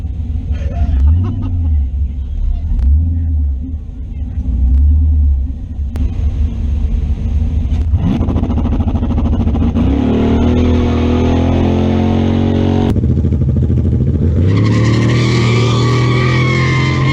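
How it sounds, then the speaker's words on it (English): A drag race car at a raceway does a burnout: a deep idling rumble with throaty pulses builds to a loud, sustained high-revving roar as the tires spin, dominating the nearby soundscape. "that's a burnout"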